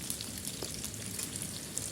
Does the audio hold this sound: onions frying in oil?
yes